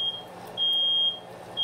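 A smoke alarm in a hallway gives long, piercing, steady beeps, one after another with short pauses between them, over a quiet home with no talk.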